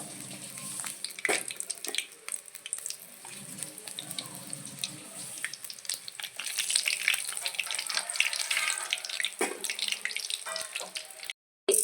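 Asafoetida and spice powder fry in hot oil for a lemon curry, giving a steady, close crackling sizzle with scattered sharper pops and clinks, continuing until it cuts off abruptly near the end.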